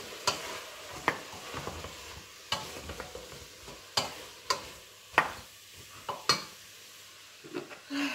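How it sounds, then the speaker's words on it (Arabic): Vermicelli and chicken stirred in a pan, with sharp scraping clinks at irregular intervals over a soft background sizzle, close and fairly quiet, with no voices. "فوالا غادي نحرك هذا الشيء"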